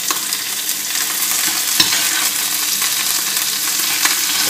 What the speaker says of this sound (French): On va venir arroser notre rôti.